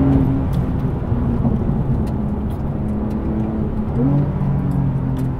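A 2021 Porsche 911 Turbo S, the 640 hp version, accelerates hard with a loud, steady engine roar and a rising tone near the end, heard up close from inside the car.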